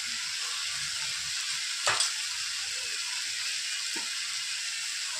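Spices such as turmeric, red chili and a pinch of asafoetida sizzle with vegetables in a pan for a dried shrimp and brinjal dish, a soft, steady frying hiss broken by two brief clinks of stirring.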